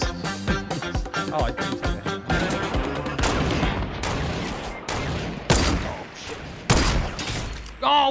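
Gunfire in the video game Fortnite, with dense rapid bursts of shots and booms layered over busy game sound effects throughout, louder spikes near the end.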